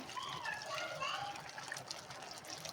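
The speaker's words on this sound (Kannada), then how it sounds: "ಸ್ವಲ್ಪ ನೀರು ಹಾಕ್ಕೊಳ್ತಾ ಇದ್ದೀನಿ" Water trickles softly into a pan of kabuli chickpea gojju curry, a faint steady pour under a quiet voice.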